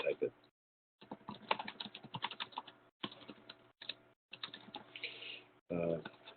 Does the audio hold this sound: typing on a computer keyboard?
yes